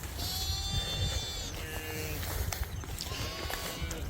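Several sheep bleat repeatedly, some near and some farther off, over a busy background of shuffling hooves and rustling.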